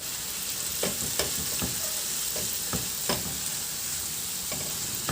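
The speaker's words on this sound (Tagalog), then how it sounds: "Ihalo lang din hanggang sa maluto yung talagang lumalabas na yung kulay ng ating kamatis." Chopped tomatoes sizzle steadily in a hot frying pan while a utensil stirs them, scraping and tapping against the pan at irregular intervals, with no talking.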